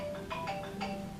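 A cell phone rings during a seminar, a faint electronic tone repeating in short pulses over a quiet room hum.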